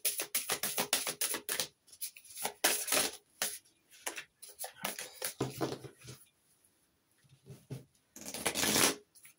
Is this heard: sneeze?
no